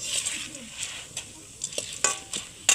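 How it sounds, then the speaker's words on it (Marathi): Roasted gram dal fries in oil in a pan over a wood-fired stove while chivda is made, a soft steady sizzle broken by sharp clinks and scrapes of a stirring spoon against the pan. "आपल्याला दालवा जास्त तेलामध्ये होऊ नाही द्यायचा आहे जास्तीत जास्त दोन ना तीन मिनिट होऊ द्यायचा"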